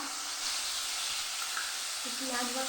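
Onion paste sizzles in a spoonful of white oil in a pan, a steady soft frying hiss with a voice speaking over it.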